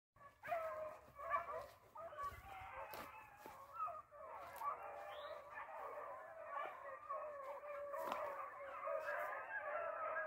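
Beagle hounds baying and howling together in a continuous chorus while running a rabbit at a speed and drive field trial, steady and fairly close, with occasional yelps over the pack.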